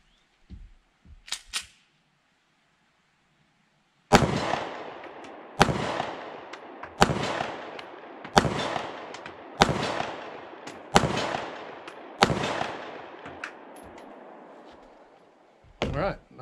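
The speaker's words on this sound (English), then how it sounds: "I'm going to take some shots at that 35-yard plate" Seven sharp 9mm shots from a Mossberg MC1sc pistol crack in a steady, evenly spaced string, fired at a steel plate 35 yards away, each followed by a short decaying tail, with a few faint knocks beforehand.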